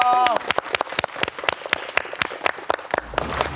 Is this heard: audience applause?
yes